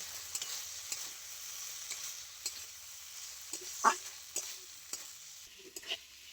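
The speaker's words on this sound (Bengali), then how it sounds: "এবারে আমি আলু ডিমাটা খুব ভালো করে মিশিয়ে নেব" Potatoes and spices fry quietly in a pan while being mixed, with a soft, low sizzle punctuated by scattered scrapes and taps of the spoon, one knock standing out clearly.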